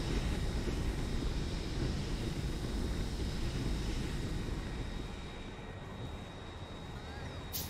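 Airplane engine in the video game Factorio, a steady broadband drone that holds for several seconds and then eases slightly quieter, with no talking.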